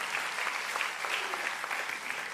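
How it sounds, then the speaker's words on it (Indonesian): A church congregation gives lively, sustained applause, a dense wash of many hands clapping at once and holding steady throughout. "Berikan tepuk tangan yang meriah buat itu."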